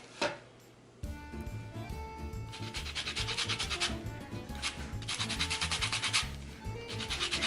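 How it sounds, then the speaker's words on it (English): An orange peel is grated on a handheld zester for a no-bake orange cheesecake. After a sharp tap and a brief pause, fast rhythmic rasping strokes run steadily and close up, with no talking. "Now we are going to add in the zest of 1 orange."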